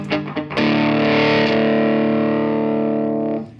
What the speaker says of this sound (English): So I have a fuzz face here.